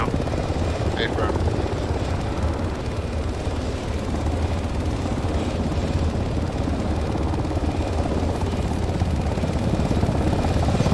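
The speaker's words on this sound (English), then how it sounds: "Chopper." A helicopter in a military shooter game set at an airfield drones as a steady, loud rotor rumble throughout, with radio chatter and gunfire-like noise layered over it.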